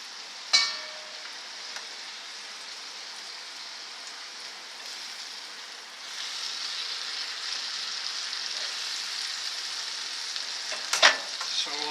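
Bananas fry in a Made-In CeramiClad non-stick pan, giving a steady close sizzle that grows slightly louder partway through, with a brief utensil clink near the start and another near the end.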